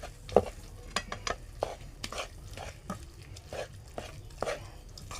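Cooked pav bhaji vegetables and tomato are mashed in a pan on the stove. Repeated soft squelching thumps and scrapes of the masher fall in an uneven rhythm over a low sizzle, close by and with no talking.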